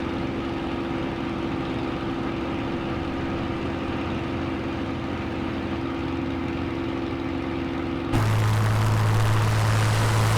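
Spitfire propeller aircraft engine in Microsoft Flight Simulator 2020, a steady droning hum with a strong constant tone that shifts abruptly to a lower, louder pitch near the end, with no talking.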